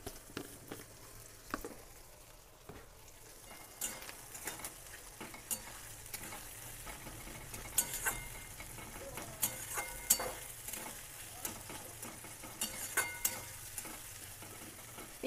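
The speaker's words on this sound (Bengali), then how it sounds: "পেঁয়াজটা ভাজা হতে থাক" Chopped onions with a pinch of salt frying in oil in a kadhai, stirred with a spoon, give a steady close sizzle broken by frequent scraping and clinking strokes throughout.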